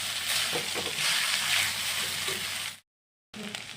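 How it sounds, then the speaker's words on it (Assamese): Chowmein noodles stir-fried with spices in an oily pan sizzle steadily and loudly, with scraping stir strokes, then cut briefly to silence before frying resumes. "এতিয়া দি আছোঁ চাওমিনখিনি। গুটিখিনি দি দিলোঁ আৰু ভালদৰে মছলাৰ লগত মিক্স কৰি দিম।"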